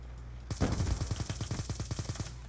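Rapid burst of gunfire from a KSG shotgun in the shooter game Black Ops 2, a dense string of roughly fourteen sharp shots in quick, even succession, close and loud.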